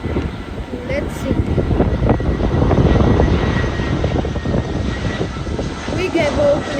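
An American Airlines Boeing 737 doing a touch and go at Miami gives a loud, steady jet engine roar that swells and holds throughout, with people talking over it.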